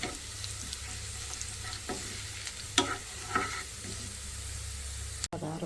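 Garlic and cumin tempering sizzles in oil for a spicy dal, a steady close frying hiss broken by a few sharp spoon clinks and scrapes before an abrupt cut.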